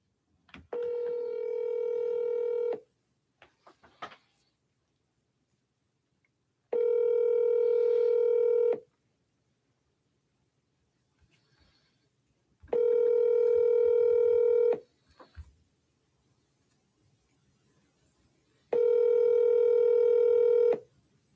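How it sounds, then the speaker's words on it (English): Telephone keypad DTMF dialing tones sound in four loud bursts of rapid beeps, each about two seconds long, separated by pauses with faint noises, placed as a call is dialed twice. "I'm going to double dial."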